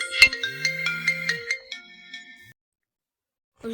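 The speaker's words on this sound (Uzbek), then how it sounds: "Uzr so'rayman, menga telefon bo'lib qoldi." A phone ringtone plays a bright, rapid electronic melody of repeated tones for about two and a half seconds, then cuts to silence before a short burst of sound at the very end.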